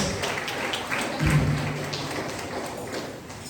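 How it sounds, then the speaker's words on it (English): An audience at a Diwali celebration in St Croix gives a round of applause for the board of directors, a moderate spread of clapping across the room that continues at a steady level, with a brief tonal ping near the middle. "Let's give Uncle Jack and the members of this board of directors a lovely round of applause."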